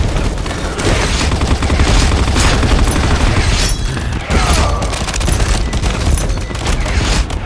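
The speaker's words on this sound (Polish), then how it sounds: "Grenade out!" Video game combat on a subway map: dense, continuous bursts of rapid gunfire with heavy booming impacts layered throughout, loud and close with no pauses.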